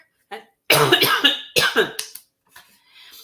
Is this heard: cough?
yes